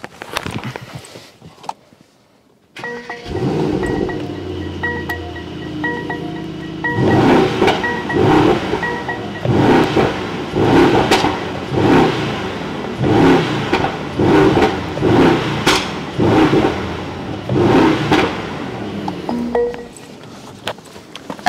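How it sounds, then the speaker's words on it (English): V8 exotic car with a 4,000 RPM rev limiter cranks and fires up after a short silence, settles into a loud idle, then revs repeatedly in rhythmic bursts with popping and banging from the exhaust between blips. "you can still hear the pops and bangs"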